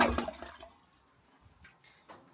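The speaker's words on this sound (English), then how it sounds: "Watch it flush." A toilet flushes after water is poured fast into its bowl, starting with a loud close rush and gurgle that fades into quiet trickling and drips, ending in a brief splash.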